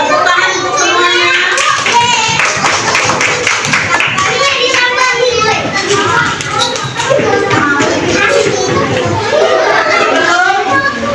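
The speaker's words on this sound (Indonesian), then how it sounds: "Tepuk tangan untuk semuanya." Schoolchildren in a Grade 2 maths classroom clap together, a dense, steady patter of small hands mixed with children's chatter and voices throughout.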